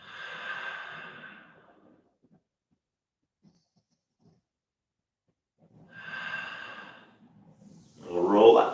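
Two slow, deep breaths during a qigong forward fold, each a soft airy exhale close to the mic, separated by a long quiet pause, followed by a sharper rustle or snort at the end.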